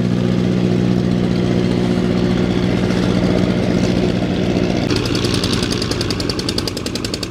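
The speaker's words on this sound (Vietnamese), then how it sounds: "Tiếng máy Mitsubishi S6R" An old Mitsubishi S6R marine diesel aboard a Kiên Giang fishing boat runs steadily and loudly up close, a deep droning hum with a rapid knocking pulse that sharpens and grows brighter as the revs climb near the end.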